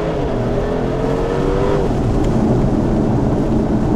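A Porsche 911 Turbo S 992 cabriolet with a titanium exhaust, driven on small Andalusian roads, gives a loud, close, continuous deep engine drone with no talk over it.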